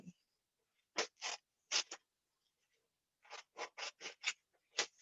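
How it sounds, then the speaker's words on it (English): Scissors snip through paper during a children's wrapping-paper craft, a run of crisp close cuts in two bursts: a few strokes near the start, then a quicker series of five or six snips, with no talking. "These scissors are super loud."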